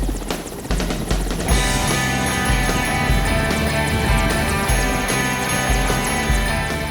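Loud, steady roar of an aircraft engine climbing toward 4,000 meters before a skydive over Dubai, a droning buzz with throbbing low rumble that fills the whole clip, close and constant with no voices.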